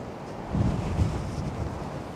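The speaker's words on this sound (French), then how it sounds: "la grande caméra et le vent qui souffle" Gusty wind buffets the microphone with low rumbling bursts that swell and fade over a couple of seconds; no voices.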